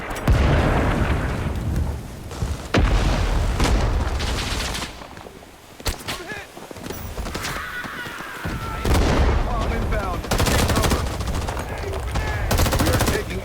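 Gunfire and grenade explosions in the Vietnam War shooter game Rising Storm 2: Vietnam, with dense bursts of automatic fire, single shots and heavy booms rolling on and off in a loud, chaotic battle, and a voice speaking over parts of it.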